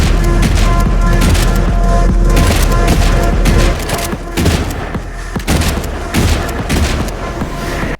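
Relentless gunfire while flying through the air in the game Shotgun Cop Man: loud, dense volleys of shots and booming impacts, then spaced, punchy blasts with brief gaps between them.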